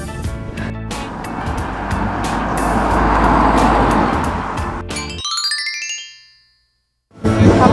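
A car passes close along a narrow village road with no footpath, its broadband tyre and engine rush swelling and then fading over about five seconds, followed by a short chiming tone and silence.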